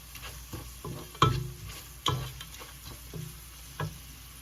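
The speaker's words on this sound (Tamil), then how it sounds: "கராம்பு ஸ்டார் அனநாசிப்பு அனநாசிப்பு இவ்வளவையும் போட்டு அதோட மிக்ஸ் பண்ணுவோம்" Cloves and star anise stirred into a mutton curry in a pot: a quiet sizzle with a few sharp spoon clinks and scrapes at irregular intervals, close and without talking.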